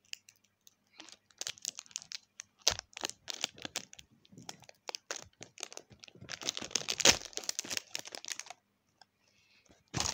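A Milkstoys toy egg package is torn open and its plastic wrapper crinkles in irregular bursts of crackling, close to the mic, with a voice speaking briefly in between.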